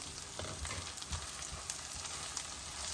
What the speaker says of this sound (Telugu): ఉల్లిపాయ పేస్ట్ అల్లం వెల్లుల్లిపాయ పేస్ట్ ఇలా వేగుతుందండి ఇంకా ఎర్రగా వేగాలి